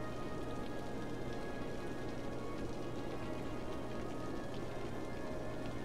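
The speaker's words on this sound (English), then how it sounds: "It's raining right now, and we'll have to come back when it's no longer raining." Steady rain patters on surfaces in the city-building game Cities: Skylines, a constant, soft hiss at low level with no talk over it.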